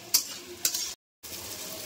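Tomatoes sizzling with fried onions in a pan, a steady hiss interrupted by two sharp stirring scrapes and a brief moment of silence before the frying resumes.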